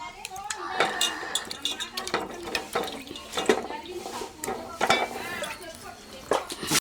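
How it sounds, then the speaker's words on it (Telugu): Potatoes being washed by hand in a water-filled pot, with wet clinking of tubers against metal and splashing in irregular bursts, close and moderately loud. "బంగాళదుంపల్ని చక్కగా కడుక్కోవాలండి"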